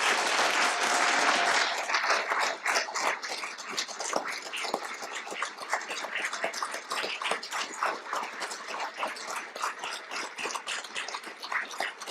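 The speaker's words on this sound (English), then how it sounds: "please join me in one last round of applause for the graduates of Howard County Department of Fire and Rescue, Paramedic Class 9." A crowd applauds Howard County Fire and Rescue Paramedic Class 9 graduates at their graduation, a dense burst of clapping that settles into a steady, slightly thinning patter of hands.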